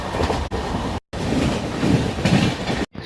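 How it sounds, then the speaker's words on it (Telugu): A Chennai local train and an express train running side by side, a loud continuous rumble with rhythmic clickety-clack of wheels on rails, close by and without voices. "చెన్నై లోకల్ ట్రైన్కి, ఎక్స్ప్రెస్ ట్రైన్కి పోటీ అయితే జరుగుతుంది."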